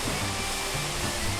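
Wind blowing hard outside an open window, heard indoors as a steady, loud broadband rush with a low droning undertone throughout.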